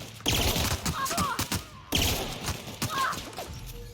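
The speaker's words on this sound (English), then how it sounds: "Grabe lakas na tong pistol na to." Pistol gunfire in The Outer Worlds video game: two loud bursts of shots, each followed by a rattling tail of impacts, close and punchy with no talk in between.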